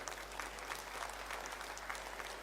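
A crowd of party workers at a political rally and workers' convention claps together in a steady, continuous wash of applause that stays fairly faint and distant throughout.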